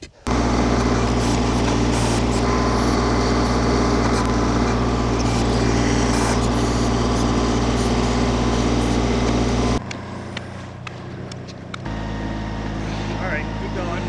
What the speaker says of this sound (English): So we're gonna use the backhoe and get started digging the hole.